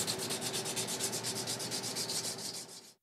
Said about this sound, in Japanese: 角を切り出しヤスリを使って自然な艶を出すためには1週間ほどかかります